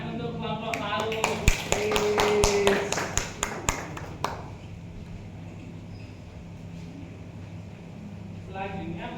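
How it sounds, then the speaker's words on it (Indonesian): A primary classroom gives a short burst of sharp claps for a student group during a lesson on the water cycle, then falls quiet with faint background noise. "diberi tepuk tangan untuk kelompok PAUD."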